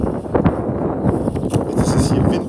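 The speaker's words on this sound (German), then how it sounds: "Jetzt ist es hier windig geworden plötzlich." Gusty outdoor wind buffets the microphone with loud, continuous rumbling and rustling bursts, a sudden breeze and no clear voices.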